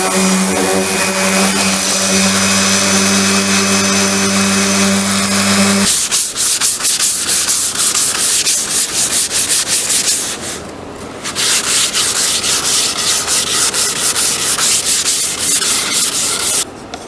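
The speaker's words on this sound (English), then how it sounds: "Now do a little sanding and we'll be able to put those handles on." Wooden tool box drawer fronts being sanded with a power sander, a loud continuous whirring rasp up close that starts with a motor hum and then steady abrasive scrubbing, briefly easing near the middle.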